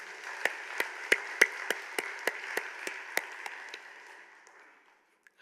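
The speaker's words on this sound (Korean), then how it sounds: "우리 박수로 한번 격려하도록 하겠습니다" Church congregation applauding the choir and worship team, a sparse scattering of distinct individual claps in an uneven rhythm that gradually thins out and fades to near silence.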